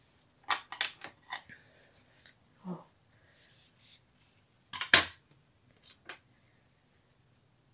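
Scissors snipping sewing thread after hand stitching a baby hair bow, a few sharp close clicks and snips scattered across quiet pauses, one louder cluster near the middle.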